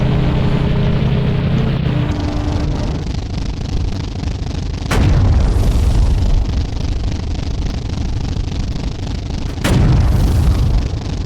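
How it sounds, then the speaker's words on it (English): Shots hit a player's tank in a WWI-era tank video game as two heavy booming impacts several seconds apart over a loud, steady engine rumble, with no talking. "someone is shooting us from the side"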